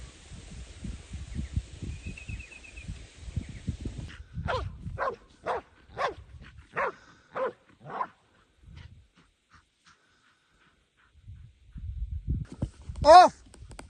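Pig-hunting dogs out on a hunt near a creek give a run of about six sharp barks spaced roughly half a second apart, fairly close. Someone talks before them, and one louder yelp rings out near the end.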